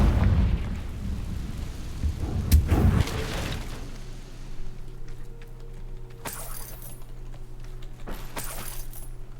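Confringo blasting spell effect in Hogwarts Legacy, a heavy boom with a shattering crack early on that fades into a low hum, followed later by sharp, sparkly crackles.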